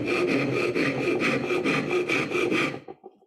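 Hand saw cutting square across the top of a piece of wood, a steady run of loud, close back-and-forth rasping strokes that stops abruptly.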